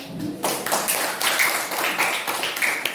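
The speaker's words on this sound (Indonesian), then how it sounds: "Jadi tepuk tangan." A classroom of students claps together in a steady burst of applause, continuous and moderately loud, with no talking over it.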